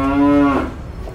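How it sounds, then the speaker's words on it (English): A single loud cow moo, a long steady low call that bends and fades into a short breathy tail, heard alone with no talk. "All the rabbits say moo"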